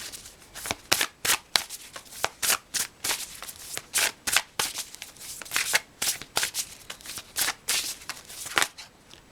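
Oracle cards are shuffled by hand in a quick series of crisp riffling, slapping bursts, fairly close and loud, with no talking.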